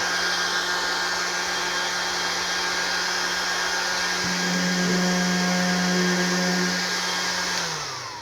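A Milwaukee M18 18-volt brushless cordless 5-inch random orbit sander whirs steadily up close, a continuous motor whine whose pitch rises midway as the speed is turned up, then winds down at the end.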